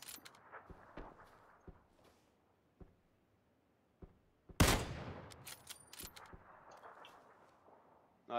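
Gunfire in the battle royale game PlayerUnknown's Battlegrounds on the Erangel map: scattered distant shots and footstep-like thuds, then a sudden loud burst followed by several sharp cracks, fairly faint overall.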